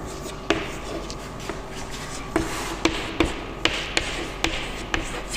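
Chalk or marker tapping and scratching on a board while writing numbers during a Class 6 math lesson on adding large numbers: a string of irregular sharp taps over a steady room hum, with no one speaking.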